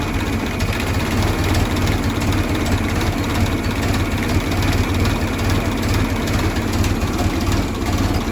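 A vintage Ford Model T engine runs steadily after a cold start, a continuous low rumbling idle with a dense, even texture that holds at the same loudness throughout, with no talking over it.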